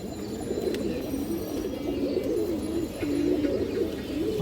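Pigeons coo steadily and close by in a pigeon loft or market, full-sized fancy birds, their low rolling calls overlapping continuously with no talk over them.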